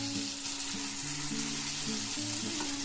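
Cashews, ginger, green chili and tomato fry over low flame in a pan, giving a steady soft sizzle with faint tonal hums from the kitchen behind it.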